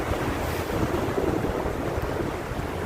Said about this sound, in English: waves of Lake Michigan